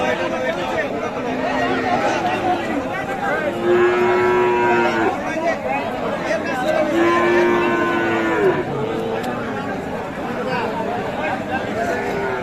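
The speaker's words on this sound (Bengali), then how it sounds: "এটা কিন্তু বকনা গরু বাচ্চি গরু ফিমেল গরু বিয়াল্লিশ হাজারে কিনছে" Cattle, including a young heifer, low loudly at a busy cattle market, with two drawn-out moos standing out over dense crowd chatter and people talking nearby.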